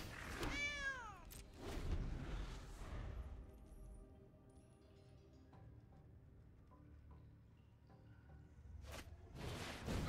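Cat token meow effects in MTG Arena: a clear synthetic meow opens, followed by quieter game chimes and clicks, then another short burst of effects near the end.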